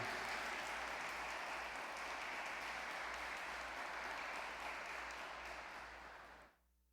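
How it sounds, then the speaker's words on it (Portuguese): A church congregation claps in sustained, dense applause during a Sunday morning service, steady and fairly full for several seconds before it fades out abruptly at the end. "Dê uma salva de palmas para o Senhor então"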